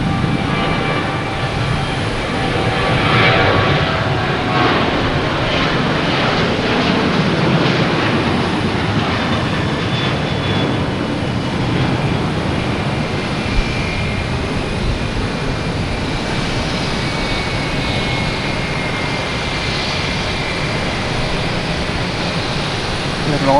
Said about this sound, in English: We have an Alaskan Airlines coming in from Seattle, 737-900.